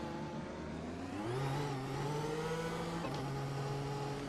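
NASCAR race car engine in a video game at Indianapolis, a steady droning roar that rises in pitch as it accelerates, then holds a sustained high note with a brief dip near the end, continuous and fairly close.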